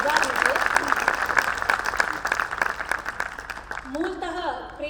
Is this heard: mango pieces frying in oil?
no